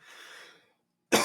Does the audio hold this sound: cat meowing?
no